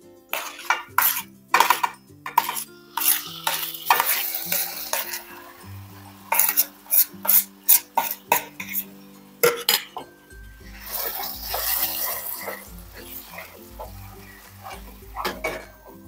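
A potato mixture is stirred in a pan with a metal spoon, giving repeated clinks and scrapes against the cookware at irregular intervals, close and fairly loud, with a soft low hum underneath.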